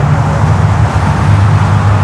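Steady traffic roar from the Grand Central Parkway near LaGuardia Airport, New York. It forms a dense, continuous rumble with no single vehicle standing out, loud and close.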